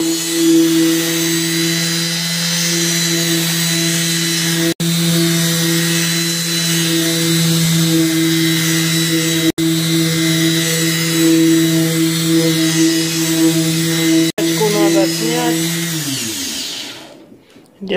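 A polishing machine on a low speed setting working wet over the dented hood of an Opel Astra, a steady close whirring hum with three brief dropouts, winding down at the end; no talk.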